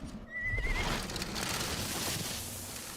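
A horse in the Sonic and the Black Knight video game lets out a loud, quavering whinny, followed by hoof clatter amid a noisy wash of game sound.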